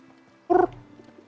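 A single short creature call rings out in Final Fantasy XVI, loud and close for about a fifth of a second, with a harmonic, meow-like tone over a quiet game background.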